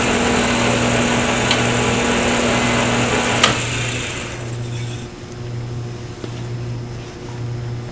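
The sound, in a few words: wood lathe turning a pen, cut with a skew chisel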